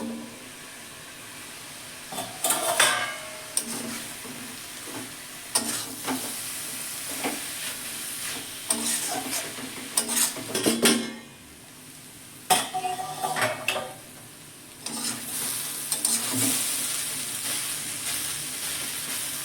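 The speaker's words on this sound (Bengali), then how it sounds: "কিছুক্ষণ ছাড়া ছাড়া চাপাটা খুলে ভালো করে ভেজে নেব" Papaya fries in a pan on low heat while it is stirred now and then; bursts of scraping and clattering rise over a soft, continuous sizzle, with short quieter pauses and no talking.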